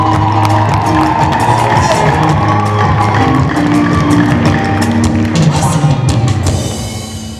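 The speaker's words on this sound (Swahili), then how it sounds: "Makofi na vigelegele kwa Yesu." A Pentecostal church congregation applauds and cheers loudly, a dense, continuous roar of clapping and high shouts that fades slightly at the end.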